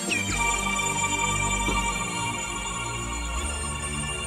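Rotten Razor synthesizer patch Planetary Morph, a sustained shimmering tone with bright, morphing harmonics, sweeping pitch glides and a low droning bed underneath, playing alone without talk.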